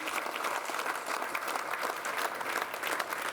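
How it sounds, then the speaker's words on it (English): Steady round of applause from a room of guests at a Pennies autumn celebration, dense overlapping clapping held at an even, moderate level throughout. "So I think we should give them a huge round of applause."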